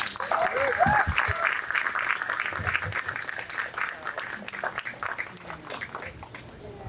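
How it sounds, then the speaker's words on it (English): Warm round of applause from a gathering of teachers and faculty at a school retirement lunch, steady clapping from a room full of people with a few voices and chuckles mixed in, tapering slightly toward the end. "So we could give a round of applause to Ken"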